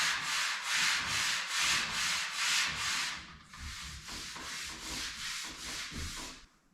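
A hand rubs back and forth over a sanded polyurethane floor finish in a steady rhythm of about a dozen close, dry scratchy strokes, the later strokes slightly shorter and smoother, with no voices.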